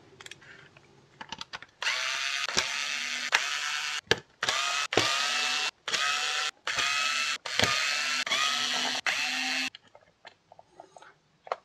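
A power screwdriver backs screws out of a Nerf Rival Fate blaster's plastic shell in about seven short whirring bursts separated by brief pauses and small clicks, close and fairly loud, with no speech.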